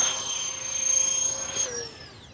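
FMS A-10 Thunderbolt II V2 RC jet with twin 70mm electric ducted fans flies past, a loud steady high-pitched whine that rises then bends lower as it passes.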